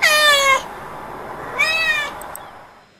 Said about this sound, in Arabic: ولكن مثلا عايز تحط صوت قطة